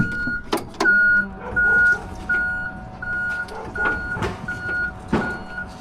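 A forklift carrying a lifted Transit van drags it aside in a shed, its reversing alarm sounding a regular series of steady beeps over engine rumble and occasional clunks and knocks.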